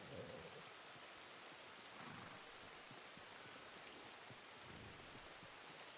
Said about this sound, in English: It's a damn rain.